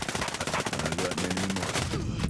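Rapid automatic gunfire in Tom Clancy's Ghost Recon Breakpoint, a loud continuous burst of closely spaced shots that cuts off abruptly near the end.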